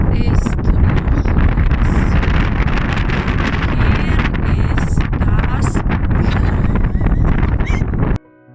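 Strong wind buffets the microphone at Loch Ness, a loud continuous roaring rush with gusty surges that cuts off abruptly at the end.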